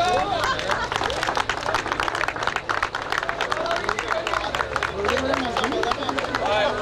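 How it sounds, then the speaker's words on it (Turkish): Applause from an award crowd for a race winner at a motorsport event, steady rapid clapping mixed with crowd murmur and chatter throughout, a voice speaking over it. "Vural Tabağa alkış."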